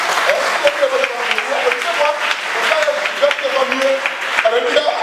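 A church congregation claps during a French-language sermon, a dense ongoing patter of hands mixed with voices and murmurs that carry throughout.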